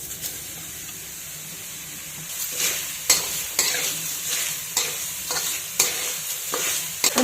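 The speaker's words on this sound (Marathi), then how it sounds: "भोपळ्याचा खीस आपण मंद गॅसवर 1 मिनिटभर आपण परतून घेऊ।" Grated pumpkin being stirred in a pan over low heat, a steady soft sizzle with repeated scraping strokes of the spoon at a regular rhythm, close and alone with no voices.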